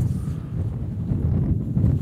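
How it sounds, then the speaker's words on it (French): Mountain wind gusts hard against the microphone, a low, rumbling buffeting that swells and surges close and loud for two seconds with no talking. "Qu'est-ce que c'est ce vent, là?"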